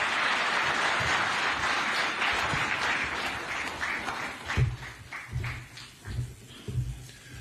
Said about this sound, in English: Another round of applause, ladies and gentlemen,